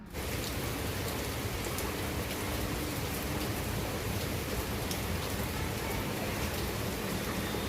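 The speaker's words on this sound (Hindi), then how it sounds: "तो देखिए कितनी तेज़ बारिश हो रही है।" Heavy rain pours down steadily and loudly in a dense, unbroken wash of noise that holds constant from start to finish, with no voices over it.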